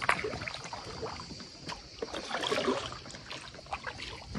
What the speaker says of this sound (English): Professional kayaking in Zadar.